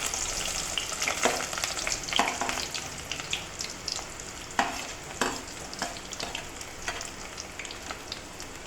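Sliced onion frying in a pan of hot oil with a little kalpasi, two small pieces of star anise and one small piece of cinnamon for vada curry, a steady close sizzle broken by stirring scrapes and crackling bursts, with no talking.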